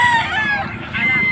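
A rooster crows among many chickens brought along from a backyard farm, the drawn-out call carrying steadily through the whole short stretch over a low crowd murmur.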